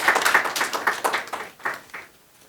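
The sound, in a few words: audience applause for awardees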